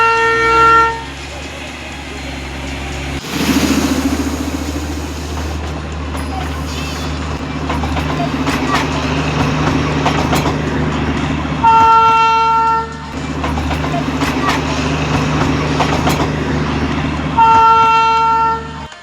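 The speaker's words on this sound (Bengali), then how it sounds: "toy train" The Darjeeling toy train passes close by at Batasia Loop with a loud rumbling run, its horn sounding in several long, sharp toots near the start and again toward the end, with faint voices nearby.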